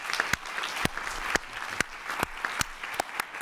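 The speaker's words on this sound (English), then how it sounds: "let's give our guest speakers a round of applause" A conference audience applauds guest speakers after a data privacy and open data session, a thin scattering of distinct, fairly sparse claps from a modest crowd, with no talk.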